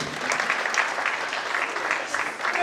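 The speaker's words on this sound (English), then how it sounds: "A round of applause for you." Audience applause at a medical school class of 1988 reunion gathering, a steady dense wash of clapping from a crowd that holds level for the full stretch without any voices on top.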